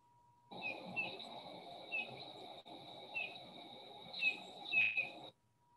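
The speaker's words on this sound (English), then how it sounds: "So there's the bullfinch call" Bullfinch calls repeated as a few soft, short piping notes spaced about a second apart, over a steady low background hiss and hum outdoors.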